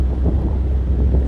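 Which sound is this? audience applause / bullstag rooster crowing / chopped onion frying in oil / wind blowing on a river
wind blowing on a river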